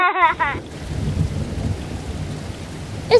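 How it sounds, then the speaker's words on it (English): Steady rain falls outdoors during a thunderstorm, a low rumbling wash of drops that fills the whole stretch, with a short bright cartoon voice at the start and a brief tone near the end. "It's raining outside"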